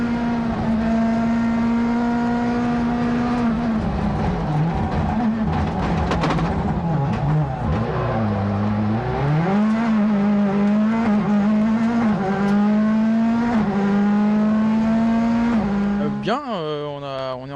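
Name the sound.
Ford Fiesta rally car driving, onboard camera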